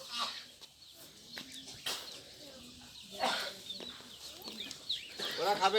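A chicken clucks nearby in a rural yard where a goat is being fed chips, its short clucks spread out under people talking.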